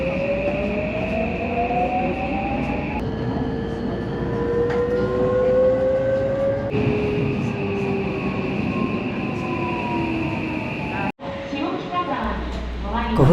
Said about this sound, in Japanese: 5番線快速急行藤沢行きの電車に乗車したいと思います。